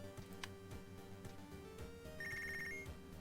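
A telephone in Punch Club rings with a quiet electronic trill near the end, heard over chiptune-style game music with thumping beats.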